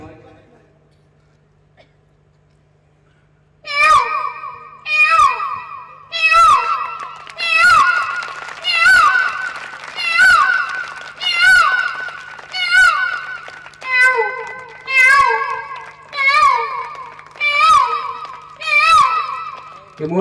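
A man mimics a peacock's call with his mouth at a stage performance: after a quiet pause, a run of about fourteen loud, nasal, wailing cries repeats at a steady rhythm, close and prominent.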